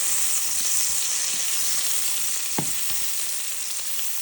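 Onions sauté in a pan toward translucency, a continuous close sizzle with small pops and one brief scrape of stirring, no voices.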